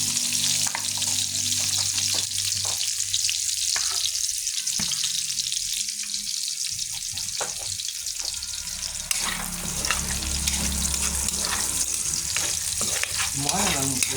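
Food sizzling and frying in a pan while being stirred, a continuous close crackle broken by scraping stirs, with a watery hiss joining midway.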